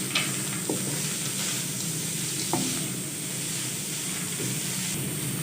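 Corn kernels and vegetables frying in a pan, a steady close hiss of sizzling oil with a few soft knocks of stirring.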